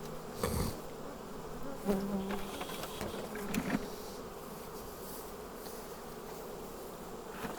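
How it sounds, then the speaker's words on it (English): Honey bees hum steadily around a hive during fall management, a close, continuous buzzing drone with a few louder passes of individual bees. "Like to smoke the bees back a little bit."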